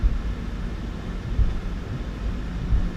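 PMDG 737-800 jet taxiing in Microsoft Flight Simulator 2024, a steady low engine rumble with broadband cockpit noise, even and constant throughout with no speech.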